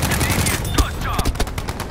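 Rapid gunfire crackles in the Battlefield V shooter game, with dense overlapping shots and bursts close up over busy battlefield noise, and a voice is faintly present.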